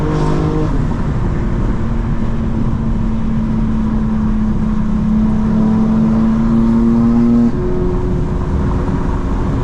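A modified 2024 BMW M4 Competition engine drones loudly and continuously, its pitch slowly climbing before dropping after a shift, heard from close by without speech.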